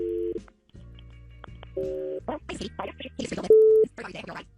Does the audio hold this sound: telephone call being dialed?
yes